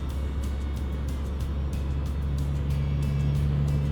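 A 12-valve Cummins diesel truck held at full throttle, a steady low engine drone with a deep constant hum and some rattling ticks above it, close and continuous with no voices.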